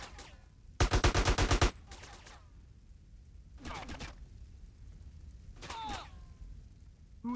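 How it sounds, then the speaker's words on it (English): Rapid burst of gunfire in GTA San Andreas, a loud sustained volley followed by a few shorter, fainter shots and scattered noises, with no talking. "Who is shooting me now?"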